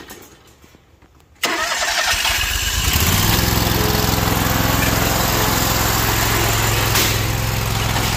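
A lawn mower engine cranks and fires up after a quiet moment, then settles into a loud, steady idle close by, with no talking.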